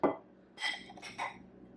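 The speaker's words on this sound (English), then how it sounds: "I am going to take a scoop of my lemon sherbet" Homemade dairy-free lemon sherbet is scooped into a small juice glass, giving a few faint, close clinks and scrapes of utensil against glass with quiet pauses between them.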